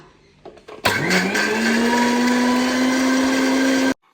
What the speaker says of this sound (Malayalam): അപ്പം ഇനി മിക്സിയിൽ വെക്കട്ടത് ഇത് നന്നായിട്ടൊന്ന് ബ്ലെൻഡ് ചെയ്യട്ടോ